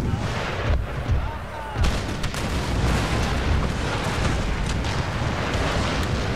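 Artillery and musket fire rumble across a battlefield in Empire Total War during a Mughal campaign, with booming cannon blasts and crackling volleys layered continuously at loud, steady intensity.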